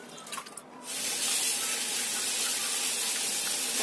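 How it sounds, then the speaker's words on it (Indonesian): Vegetables rinsed leaf by leaf under running tap water, a steady loud gush of water splashing into a sink that starts abruptly after a brief quieter moment and continues unbroken. "ini kita bilas di air mengalir sampai bersih"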